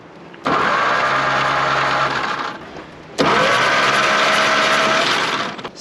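Starter motor of a WW2 Ford Jeep that sat unused for 60 years, with a disintegrating belt, cranks the engine in two long whirring bursts of about two seconds each, loud and close without catching.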